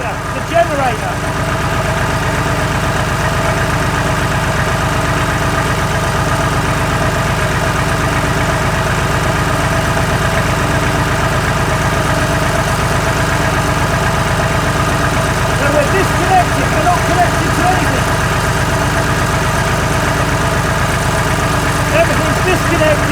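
A fire-damaged, rebuilt Massey Ferguson tractor engine idles steadily with a close, loud, even drone and mechanical hum throughout, unchanged in pitch or rhythm.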